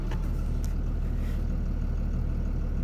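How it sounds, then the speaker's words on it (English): An International 4300 flatbed truck engine idles with a low, steady rumble, close by and constant, with a faint higher rattle now and then. "Here, let's start the truck up."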